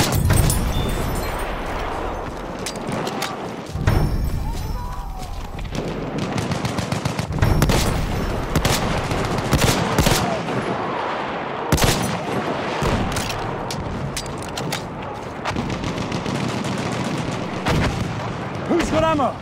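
Rapid video game gunfire fills the whole stretch, dense bursts of shots and automatic fire crackling continuously at close range, loud and relentless, with voices talking in the mix.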